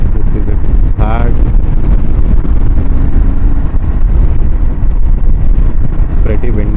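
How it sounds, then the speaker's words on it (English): Heavy wind buffets the microphone while riding a motorbike on a windy ghat road, a loud constant roar with rumbling gusts throughout, and a voice speaks over it briefly. "It's pretty windy today."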